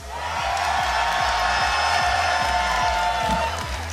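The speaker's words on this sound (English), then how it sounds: "Sweden, if you want EYEMUSICIAN to win, make some noise!" A crowd in Sweden cheers at a live competitive event, a loud, sustained roar with whoops over a steady thumping beat.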